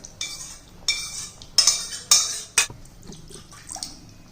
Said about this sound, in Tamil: இப்போ இதை வந்து இந்த பருப்பை வந்து இதில் ஊற்றிடுவோம்.